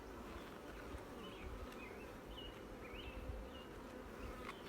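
Honey bees buzzing steadily around a caged queen during hive installation, a faint, continuous drone with no talk.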